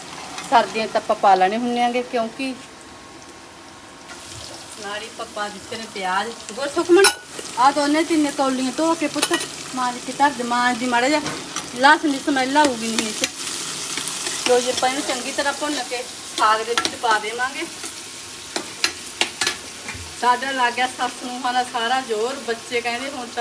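Garlic, onion and ginger frying in a pan for Punjabi saag make a steady sizzle with stirring, while someone talks almost continuously over the cooking.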